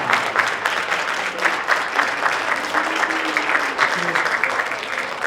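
Audience applause at a high school academic bowl between two schools, continuous mid-distance clapping with murmuring crowd voices mixed in throughout.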